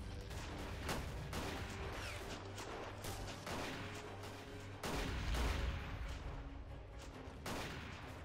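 Rifle fire crackles through a Battle of Empires 1914-1918 battlefield, a dense fusillade of overlapping shots with several louder bursts and heavy booms standing out, loud and continuous with no talk.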